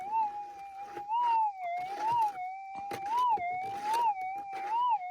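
Gold-hunting metal detector sounding over a buried target, a warbling tone that rises and falls in a slow wavering pitch, with scrapes and knocks of handling between, moderately close.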